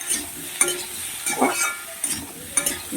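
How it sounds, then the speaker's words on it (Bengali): Grated ginger and garlic fry with papaya and potato in a pan, giving a soft steady sizzle under repeated stirring scrapes and light clinks of a spoon against the pan. "আদা রসুনকে এই পেঁপে আর আলুর সঙ্গে ভালো করে ভাজতে হবে"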